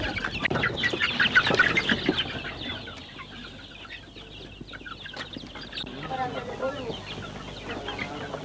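Hens clucking and squawking in a small backyard chicken coop, a busy cluster of calls early on that thins into scattered, quieter clucks, with background voices murmuring throughout.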